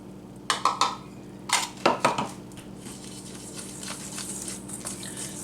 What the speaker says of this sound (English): I'm just going to whisk that together nice